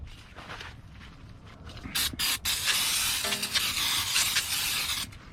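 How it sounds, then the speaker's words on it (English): A 2012 Nissan Rogue 2.5 S front brake rotor gets sprayed with brake cleaner, first with a few short quiet hisses and then with two loud blasts of aerosol spray, the last one a long continuous hiss. "So I like to go and hit them with some brake clean."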